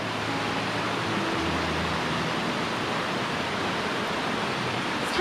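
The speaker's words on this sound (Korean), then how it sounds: "물 흐르는 소리가 참 맑고" Steady rushing of water flowing in the Seongdeokcheon stream in a quiet countryside valley, an even broadband hiss with no voices.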